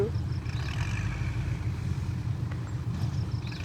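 A tractor pushing dirt on a newly cut track by a pit, its engine a steady low diesel rumble at moderate distance, continuous with no talk.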